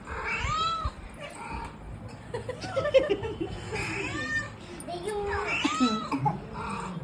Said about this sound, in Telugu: అదిగో పిల్లి.